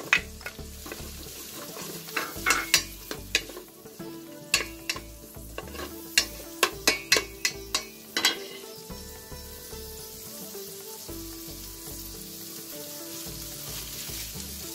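Red onions and a chopped cut vegetable frying in hot oil as a tempering for yellow rice, with a steady close sizzle and a run of sharp spattering pops and clinks of stirring in the first half.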